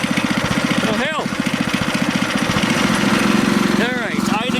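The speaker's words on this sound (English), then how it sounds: "Alright, idling a little bit high." A small go-kart engine idles fast and loud with a steady rapid putter, close up, and someone talks briefly over it.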